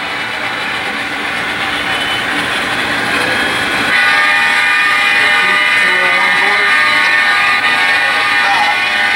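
A model railroad train runs on a club layout with a steady mechanical rumble, and sustained horn-like tones join it about halfway through and stay loud and close to the end.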